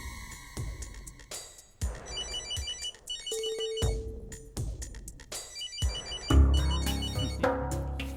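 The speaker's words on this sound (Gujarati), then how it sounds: "જો જગાના બાપનો ફોન આવી ગયો." A phone ringtone signals an incoming call, with repeated ringing bursts and melodic electronic tones sounding clearly and steadily throughout with no one talking.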